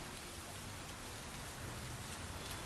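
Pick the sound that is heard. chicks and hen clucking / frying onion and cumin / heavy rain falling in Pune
heavy rain falling in Pune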